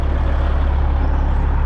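A farm truck's engine rumbles loud and close with a deep throbbing idle and a broad hiss of air over it, steady throughout the short stretch.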